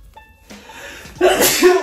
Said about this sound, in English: I just sneezed everywhere